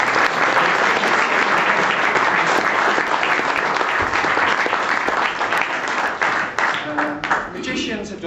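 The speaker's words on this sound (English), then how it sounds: "Give it a big round of applause." Loud, sustained audience applause for a close-up magic competition act fills the room, dense clapping that stays strong before gradually thinning toward the end, with some voices mixed in.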